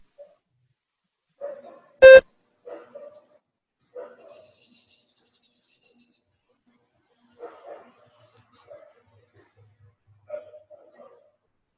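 A single sharp electronic beep marks the start of response preparation in a spoken English mock test, standing out loud and brief against near silence and a few faint scattered noises.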